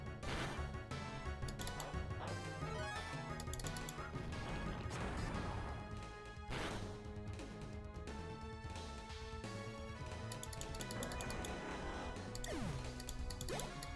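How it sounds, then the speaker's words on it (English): A Heavy Slam attack in a Pokemon battle game lands as loud crashing impacts, with dense game music and effects running throughout. "We kill this with Steel Gem Heavy Slam."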